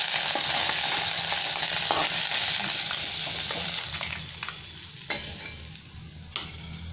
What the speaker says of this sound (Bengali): আর একটু পেঁয়াজ কুচি দিয়ে দেবো।